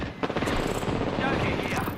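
A knuckle cluster weapon fires in a video game with a rapid, dense burst of clattering shots and mechanical rattles, loud and continuous over about two seconds.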